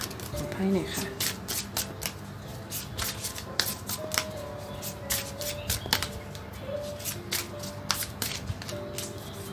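Tarot cards being shuffled at a love reading, giving repeated crisp riffling flutters and soft slaps throughout, with someone talking over them.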